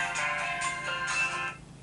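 A mobile phone ringtone plays during a Bible study lecture, a bright melodic electronic tune lasting under two seconds and heard fairly clearly in a reverberant room before fading out.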